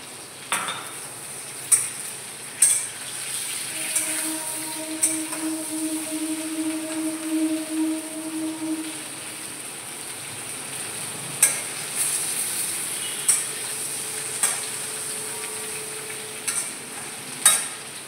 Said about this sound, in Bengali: আমার আলু, পটল, কুমড়ো, গাজর মোটামুটি ভাজা হয়ে যাচ্ছে।